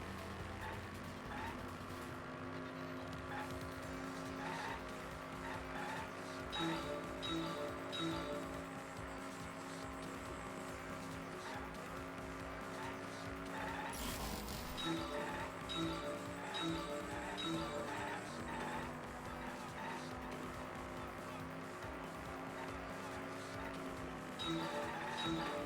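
Car driving in the video game Danganronpa V3, a steady engine drone with looping game music and occasional ticking effects running continuously.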